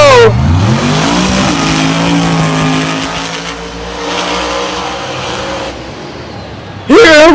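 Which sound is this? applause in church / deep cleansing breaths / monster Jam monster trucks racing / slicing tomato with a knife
monster Jam monster trucks racing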